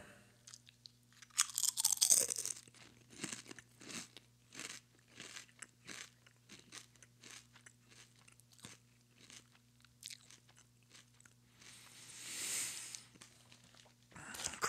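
Potato crisps eaten close up, a burst of loud crunching bites followed by a long run of steady chewing crunches, with another louder bite near the end; no talking.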